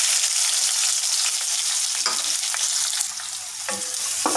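Onions frying in a pan for semiya veg biryani, a steady loud sizzle that runs throughout with a few faint scrapes of stirring.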